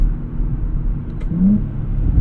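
A 2024 Nissan Z Nismo's engine rumbles steadily nearby, its pitch dipping and briefly rising as it downshifts, with a low whirring drone throughout.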